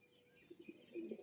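Pigeons offered for sale, black-line birds, give a few soft, low coos close together, faint and brief against a quiet background.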